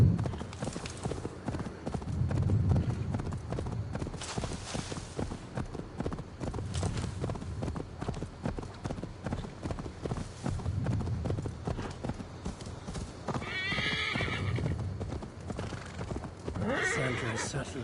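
A horse in the video game Assassin's Creed Valhalla trots with rhythmic clip-clopping hooves throughout, joined by neighs and whinnies, while someone talks over it at times.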